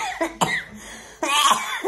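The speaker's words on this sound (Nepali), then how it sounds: "भगवान् मलाई खोकी लागेको" A person with a cough hacks several times at close range: two quick coughs, a pause, then a longer harsh rasping cough and one more short one at the end.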